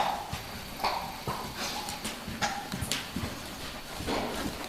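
A horse trots in a riding lesson, its hooves giving a steady, rhythmic clip-clop that stays at moderate distance over light background noise.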